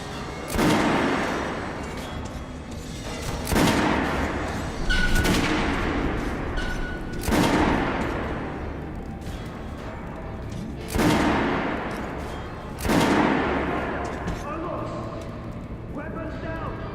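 A rifle volley fired on command in Metro: Last Light, loud sharp shots repeating about every two seconds with echoing tails, a shouted voice heard between them.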